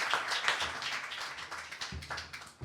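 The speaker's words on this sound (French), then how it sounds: "On peut applaudir la parole de Dieu." A church congregation at a Sunday service claps after a scripture reading, a fairly quiet, moderately dense patter of hands that fades a little before picking up again at the end.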